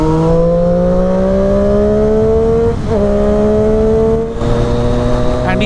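A Triumph Daytona 675 sport bike fitted with a loud SC Project exhaust accelerates hard through three gears. The engine note climbs steadily and drops briefly at two distinct gear shifts, loud and close throughout.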